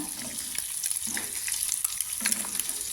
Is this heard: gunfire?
no